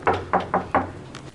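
Four sharp knocks land on a door in an apartment building hallway in an uneven rhythm, close and loud, then a faint fifth tap, with no talking.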